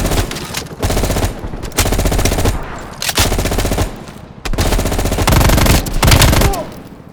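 Rapid automatic gunfire from Call of Duty: Black Ops Cold War, loud bursts coming in several long volleys separated by brief gaps, close and dominant with no talk over it.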